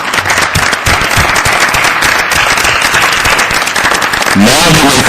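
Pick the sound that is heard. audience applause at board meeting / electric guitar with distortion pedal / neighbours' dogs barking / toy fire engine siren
audience applause at board meeting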